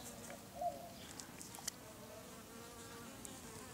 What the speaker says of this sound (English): There's bees around me.